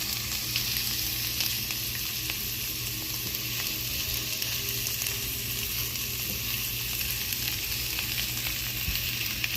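Scrambled eggs and home fried potatoes fry together in one pan, giving a steady, close crackling sizzle with small pops and occasional stirring, no talk.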